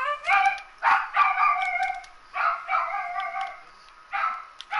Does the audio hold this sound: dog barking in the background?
yes